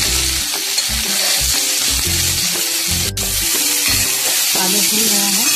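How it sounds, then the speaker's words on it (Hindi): Boiled potatoes frying in a pan with salt and turmeric for a green potato dum, a steady loud sizzle with repeated scraping stirs throughout. "जब तक आलू भून रहा है"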